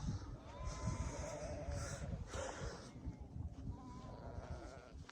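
A lamb bleats outdoors on a cloudy day, a few faint wavering cries over a low rumbling, windy background, fairly distant and quiet.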